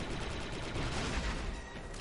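An anti-armor weapon fires at a droid in the video game Star Wars: Republic Commando, producing a dense, loud roar of blasts and gunfire that fills the whole stretch.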